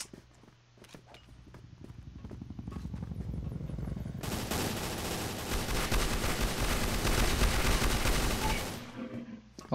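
Burst-mode gunfire in a first-person shooter match on a village map comes as rapid clusters of loud shots, dense and continuous for several seconds, with faint earlier shots and game sounds.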